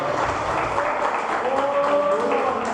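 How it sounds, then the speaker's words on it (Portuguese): A church congregation applauds during a sermon, a dense, steady wash of clapping that fills the room for a few seconds with a faint tonal hum running beneath. "Quem crê nisso pode aplaudir o nome do Senhor."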